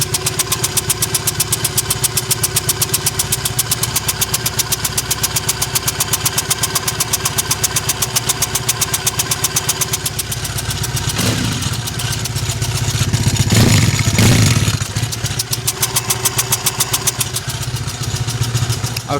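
A Triumph Bonneville motorcycle idles steadily close by, its rapid even firing pulses running throughout from a misfiring right-side spark plug, with a brief louder surge of revs near the end.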